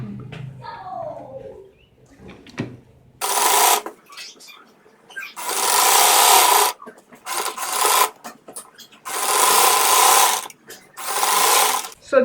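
Sewing machine stitching along the folded edge of a fabric sleeve strap, five bursts of steady whirring separated by short pauses, close and fairly loud, with soft handling rustle in between.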